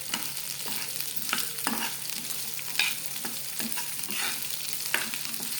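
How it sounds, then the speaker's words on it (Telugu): Curry leaves fry in an oil tempering for coconut peanut chutney, a steady close sizzle with repeated spoon scrapes and taps against the pan in an uneven rhythm. "కొద్దిగా కరివేపాకు వేసుకొని బాగా ఫ్రై చేసుకోవాలి"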